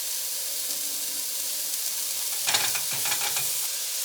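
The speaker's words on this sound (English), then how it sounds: "Boom, shrimp in the pan." Shrimp and peas sizzle in a frying pan with a steady hiss, then a louder burst of crackling as more food drops in about halfway through, settling back into a busy sizzle.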